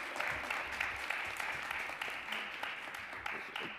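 Audience applause at a city council housing committee hearing, a steady wash of many hands clapping throughout at moderate distance, with no one speaking over it.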